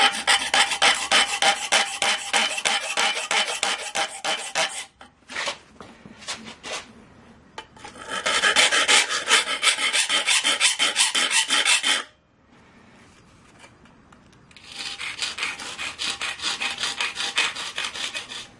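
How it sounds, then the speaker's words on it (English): A file rasps steadily against a wooden board, cutting a cutout, in quick, even strokes, forming long bursts with brief pauses and a quieter stretch of scattered scrapes. "I'll use a file to make the cutout in the board."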